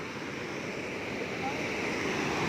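Water rushing at Tad Houakhon falls in Lamam, Sekong, southern Laos, makes a steady, even hiss-like roar throughout that swells slightly toward the end, with faint voices under it.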